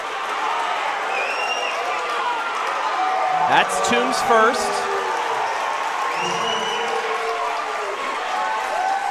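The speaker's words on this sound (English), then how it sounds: "A lot of noise on both sides from these crowds" Crowds on both sides of a high school boys basketball game cheer and roar steadily in a gym, with sneakers squeaking and a commentator talking over the noise.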